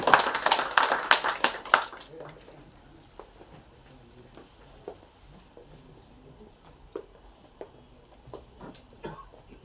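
Audience applause at a Tamil poetry documentary event, a burst of loud clapping that fades after two seconds into scattered claps and murmurs under a speaking voice.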